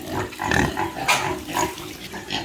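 Pigs on a small backyard farm, ten hogs and ten piglets, grunt and squeal in a steady, close jumble of overlapping calls with no talk over them.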